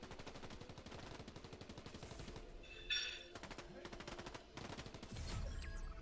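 Rapid bursts of automatic gunfire crackle in quick rhythmic volleys, with a few louder single shots, from combat in the game Fortnite at moderate distance.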